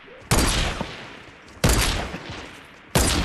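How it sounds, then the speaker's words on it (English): An automated turret in the video game Fortnite fires in three heavy bursts of rapid gunfire, each sharp onset trailing off over roughly a second, loud and close, with no speech. "Oh no, that's a turret!"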